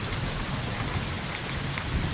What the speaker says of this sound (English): That thunder has been booming around here for